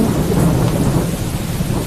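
Rain and thunder in the mobile game Indian Vehicles Simulator 3D: a dense, continuous downpour hiss mixed with low rolling thunder, steady and loud for the whole moment, with no voices.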